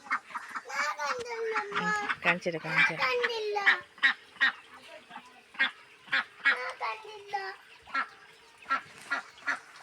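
Hens cluck repeatedly in short, loud bursts close by, with a person talking over the first few seconds.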